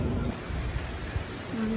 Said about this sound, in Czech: ale prší, leje úplně šíleně